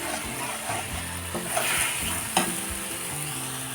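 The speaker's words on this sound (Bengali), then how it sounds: "এবার মশলাগুলো ভালো করে কষতে হবে" Spice paste is sautéed in a pan for Bengali aar fish curry, giving a steady, close sizzle with intermittent scraping strokes of the spatula throughout.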